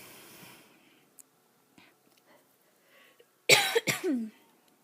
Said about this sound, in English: So you guys probably heard me cough.